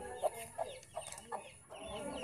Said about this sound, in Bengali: এই দেখেন, এটা হলো বড় মুরগটা, অনেক বড় আসলি মুরগি।